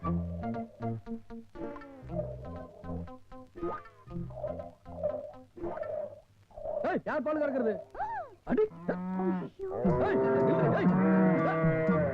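A cow moos several times, with long, drawn-out calls that rise and fall, mixed in with people talking nearby.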